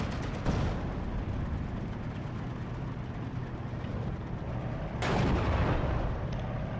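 A StuG assault gun fires in the video game Steel Division 2, two heavy booming shots about four seconds apart over a constant rumbling battlefield din.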